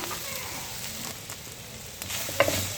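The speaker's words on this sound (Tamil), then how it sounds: "எடுத்து வச்சுருக்க கடலை மாவை இதில் சேர்த்து விடுவோம் சேர்த்துக்கிட்டு இதையும் நல்லா மிக்ஸ் பண்ணிக்குவோம்" Ivy gourd stir-fry with gram flour being stirred and sautéed in a pan gives a faint, steady sizzle with soft scraping, plus a slightly louder stirring clatter near the end.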